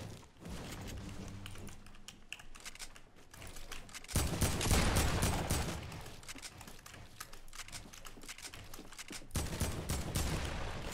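Gunfire in the Fortnite heavy-weapons match with a Gold Scar and heavy shotgun: dense bursts of rapid shots with a heavier volley midway, close and loud, no talking.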